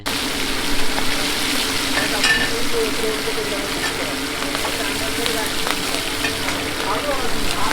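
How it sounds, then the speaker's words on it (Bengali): Pieces of cut hilsa fish frying and being turned in hot oil at a riverside ghat eatery, a steady close crackling sizzle running throughout with faint background clatter. "এবার গরম তেলের মধ্যে সুস্বাদু কাটা ইলিশ মাছ ছেড়ে দিচ্ছেন তারপর মসমসে করে ভাজার জন্য উল্টে পাল্টে দেওয়া হচ্ছে"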